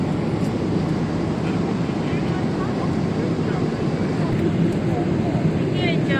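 Inside an Eva Airways airliner cabin before takeoff for Bangkok, a steady low engine and air-system drone hums throughout at a constant level, with faint cabin noises and a person's voice over it.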